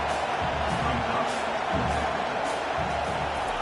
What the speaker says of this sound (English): The crowd is roaring, trying to help this defense on fourth down.